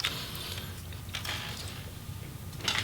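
A plastic hinge cover is pried up and off an MSI GF63 Thin laptop, giving a few faint, scattered clicks and creaks against a steady low background hum.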